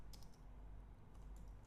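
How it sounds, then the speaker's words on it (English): Faint, quick keystrokes on a computer keyboard while Hebrew text is typed, a short run of soft clicks over a low background hum. "For example, I'll type in Hebrew."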